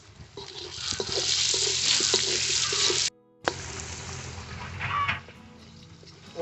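Kohlrabi pieces sizzle in an oil pan with turmeric, a steady frying hiss broken briefly by a short gap, with light stirring and scraping clatter.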